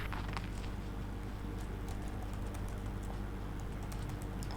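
Keys clatter on a computer keyboard as a name is typed into a registration form, quiet irregular tapping over a low steady hum, no speech.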